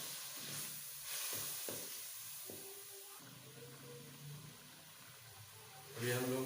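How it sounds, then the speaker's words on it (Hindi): Spices and gravy ingredients for an egg masala roast and sizzle in a pan, with a spoon stirring and scraping at intervals, close and steady, ending in a louder burst of frying. "अभी इन लोगों को सभी चीज़ों को अच्छी तरह भून लेते हैं।"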